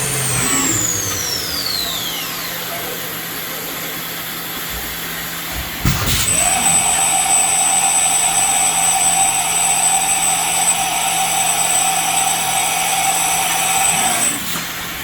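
A Southwestern Industries Trak LPM vertical machining center, new 2018, with its spindle at a top speed of 8,000 RPM, giving a loud steady high whine over a constant mechanical hum, with a brief clunk midway as the tone settles higher.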